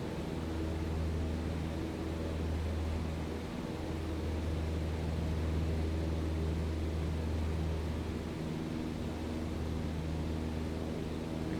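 Small airplane climbing out just after takeoff in Microsoft Flight Simulator 2020, a steady droning engine hum with a constant low rumble throughout, no speech.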